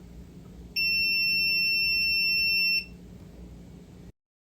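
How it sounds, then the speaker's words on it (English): An Owon XDM1041 multimeter's continuity beeper sounds one steady, shrill tone for about two seconds over faint background hiss, then cuts off cleanly. "When the beeper is on, this can be heard with an audible beep"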